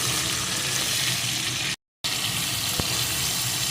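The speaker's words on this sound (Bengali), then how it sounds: "এবার এটাকেও এর সাথে একটু ভেজে নেব" Bari (sun-dried lentil dumplings) frying with potato, tomato and eggplant in a pan give a loud, dense, continuous sizzle, broken by a brief silent gap, with a small clink near the end.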